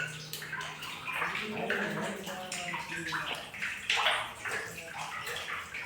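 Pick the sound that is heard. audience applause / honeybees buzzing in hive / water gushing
water gushing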